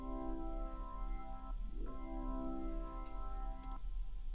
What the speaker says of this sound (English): That was just a little baby organ slide,